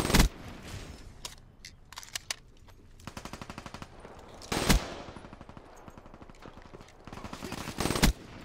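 Gunfire from a video game beta crackles in quick automatic bursts with several sharper single shots, some loud and close, others thinner and farther off, over a busy game background.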